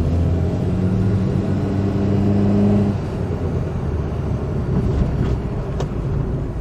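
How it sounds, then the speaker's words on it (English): A car with a Ford CVH engine drives along on a summer day, its steady engine drone and road rumble continuing without a break and close by. A low hum fades partway through. "I am definitely going to leave you here with the sound of the CVH."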